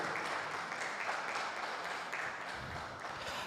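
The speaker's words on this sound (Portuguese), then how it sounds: "Vamos dar uma salva de palmas bem forte a Jesus pela vida deles" A church congregation applauding during a service, a short, continuous wash of many hands clapping, fairly faint and distant, with no speech over it.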